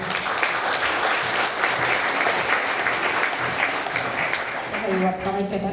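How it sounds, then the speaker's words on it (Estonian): Audience applause at a spring concert of an art school in Kadrina for teacher Piret, dense steady clapping filling the whole stretch, loud and close, with a voice speaking over it near the end. "Eriline aplaus ka õpetaja Piretile"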